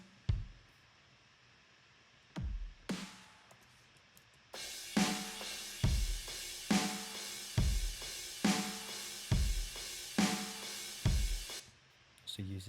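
Metalcore drum one-shots layered with Logic's Smash Kit kick and snare: a few sparse heavy hits, then a steady pounding groove of loud kicks, snares and bright cymbal wash, with faint talk at the very start.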